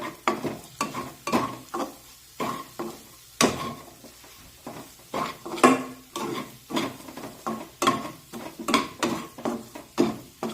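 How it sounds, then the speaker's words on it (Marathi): Spices for a mixed winter vegetable bhaji sautéed in a pan with onion and garlic, a steady soft sizzle broken by regular scraping and clinking stir strokes about every half second, close and without talk. "आता हे मसाले थोडेसे परतून घेऊया"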